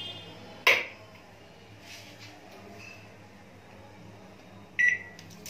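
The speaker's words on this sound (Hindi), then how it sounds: "तो चलिए हम माइक्रोवेव स्टार्ट करते हैं।" A household microwave oven gives a sharp beep as it is started, then runs with a soft, steady low hum, ending with another short beep near the end; no one speaks.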